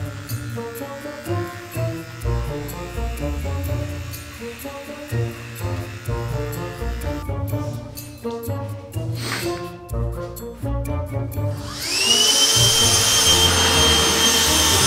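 Electric hair clipper buzzing close up as it cuts hair during a home haircut, its steady whine rising sharply and growing louder near the end, heard over music in the background.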